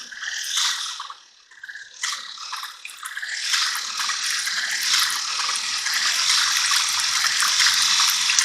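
Fuel pours steadily into a container to nearly submerge an old O.S. 26FS model four-stroke engine, a close, continuous trickling gush that grows fuller and more even as it fills.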